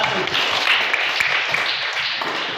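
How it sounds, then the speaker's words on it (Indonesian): A class gives a group of students a round of applause, with steady, fairly close clapping and light chatter mixed underneath. "Silakan berikan aplaus untuk kelompok 1"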